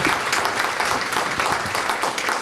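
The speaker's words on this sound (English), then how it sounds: "Let's give them a round of applause." An audience at a multiple sclerosis roundtable Q&A with neurologists gives a round of applause, dense steady clapping throughout the clip with no speech.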